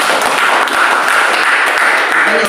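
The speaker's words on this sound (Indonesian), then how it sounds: "Berikan tepuk tangan." A worship congregation applauds together in an apartment-building service, producing a steady, dense wash of clapping that holds at full volume for the whole stretch.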